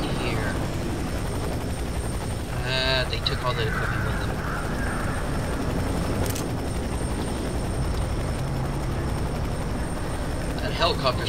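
A helicopter in the shooter video game F.E.A.R. 3, its heavy rotor thrum droning loudly and continuously under gunfire and shouted voices.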